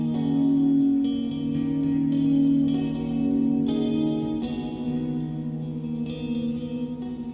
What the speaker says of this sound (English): Okay, not my favorite reverb, but definitely usable.